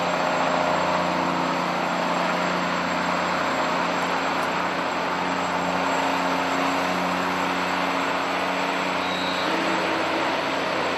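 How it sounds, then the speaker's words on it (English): A Caterpillar engine in a road train truck, using its engine brake in low gear on a long descent through a range, gives a steady, loud, droning roar with a constant low hum and no voices. "Jim selects a low gear and lets the big Cat's engine brake do all the braking on the way down"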